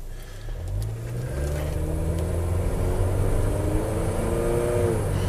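A Chevrolet HHR with a transmission fault drives off, its engine rising steadily as it accelerates through the gears, a close, continuous hum with light road noise and no talking.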